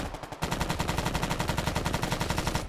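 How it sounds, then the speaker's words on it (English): Minigun firing in the combat game Arma 3, a loud sustained rapid burst of rattling shots starting abruptly after a brief pause and running continuously. "minigun, minigun"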